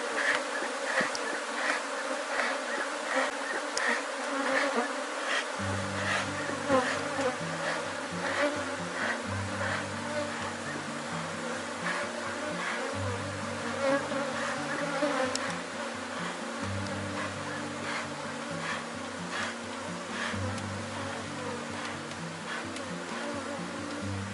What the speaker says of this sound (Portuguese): Enxamezinho aqui, gente, é o tipo de enxame que não é tão agressivo, mas quando você abre ele, ó, voa abelha para todo lado